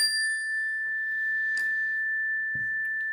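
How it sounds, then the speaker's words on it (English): A bell struck once to signal closing the eyes during a guided breathing exercise, ringing as a single sustained, clear tone that hangs steadily through the whole moment with no voices. "So when you hear the bell, you're going to close your eyes."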